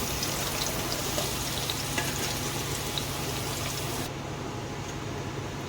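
Drumstick, okra, brinjal and carrot pieces frying in a pan for sambar give a steady, close, hissing sizzle that carries on unbroken, with no voices.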